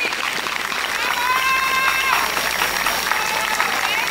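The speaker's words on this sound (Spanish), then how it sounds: "Brindémosle un fuerte, fuerte y merecido aplauso a la pareja número 3" Festival crowd applauding a dancing couple at a patron saint fiesta in San Andrés Miraflores, a loud, steady wash of clapping with cheering voices mixed in, continuous and close throughout.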